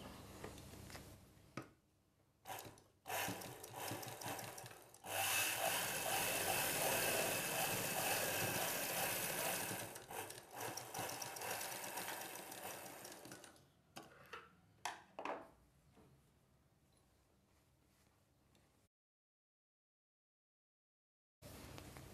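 A sewing machine stitches the belt piece of a boat-neck designer blouse, starting with a few short bursts, then a long continuous run, then more brief stops and starts before going quiet.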